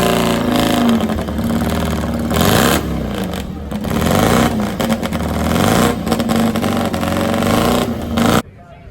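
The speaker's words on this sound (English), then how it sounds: "This is where you can see vintage motorcycles race and hear them run up close and personal." Vintage motorcycles race at Willow Springs during the 2019 Corsa Motoclassica, a continuous loud engine roar rising and falling as bikes rev and pass close by, ending abruptly.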